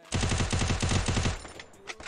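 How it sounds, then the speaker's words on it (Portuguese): Automatic weapon fire in the game Free Fire: a fast, loud burst of around a dozen evenly spaced shots lasting over a second, then a fading tail and a faint click. "Um tiro dois aqui."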